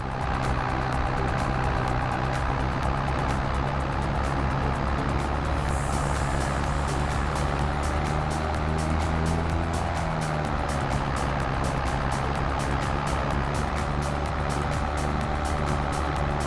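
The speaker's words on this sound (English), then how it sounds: "Alright, little queue of traffic." Steady, loud road traffic in a farming video game, a queue of cars and trucks producing a continuous engine drone and rumble with repeated ticking and beeping over the top, no talk.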